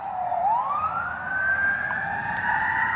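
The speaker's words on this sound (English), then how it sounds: "Nick, we can hear the sirens in the street." An emergency siren wails in the street, its pitch sweeping up and holding high, loud and fairly close over low traffic rumble.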